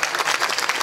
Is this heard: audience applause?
yes